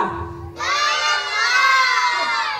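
Children at a birthday party break into a loud, sustained chorus of shouting and cheering after a brief lull, many voices together and close by.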